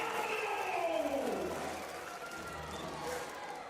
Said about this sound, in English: Crowd's loving this.